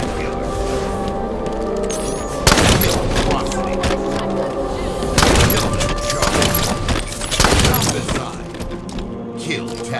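Shotgun blasts in Halo 5's Infection mode boom loudly at intervals over a dense, continuous bed of game music and effects, with no speech heard.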